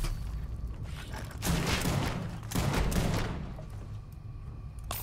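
A weapon fires in Starfield, a sustained rattling fusillade in two loud surges over a rumbling background, fading toward the end.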